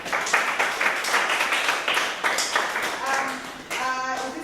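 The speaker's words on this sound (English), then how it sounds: "Let's give a round of applause for this group." Audience members at a New School event clap for a group, with a loose, rhythmic beat that gives way to a voice and a sustained tonal sound in the last second or so.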